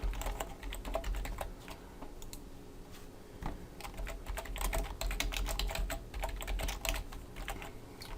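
Someone types HTML code on a computer keyboard with quick, uneven bursts of key clicks and short pauses, close and fairly quiet, with no one speaking.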